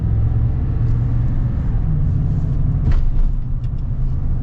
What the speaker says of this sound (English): Oh man, the V8 sounds so good in the Tundra.